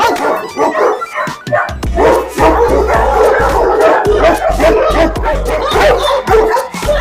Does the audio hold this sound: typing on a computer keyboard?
no